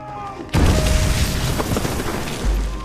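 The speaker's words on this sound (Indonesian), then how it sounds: "ledakan demi ledakan mortir terus menghujani" A heavy mortar explosion erupts after a brief quiet moment, followed by sustained rumbling blasts and debris-like crackle, loud and close.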